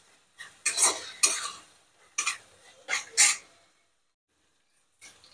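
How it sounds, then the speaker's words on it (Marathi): Masala for paneer masala sautés in a pan over a full gas flame as a spatula scrapes and stirs it in several short bursts. A brief quiet stretch follows, then one last faint stir. "मसाला आपला परतून झाला"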